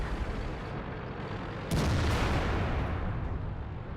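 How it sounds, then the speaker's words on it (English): A single loud tank cannon shot from a Tiger P in World of Tanks booms out partway through, with a sustained rumbling tail after a steady background of engine noise and battle ambience. "Try to take another sneaky little shot there in the rear."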